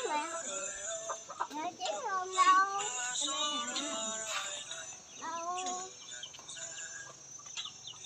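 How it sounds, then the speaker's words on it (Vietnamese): Bantam chickens cluck in a yard, their calls rising and falling under a child's and an adult's voices talking nearby. "Mình nuôi gà tre."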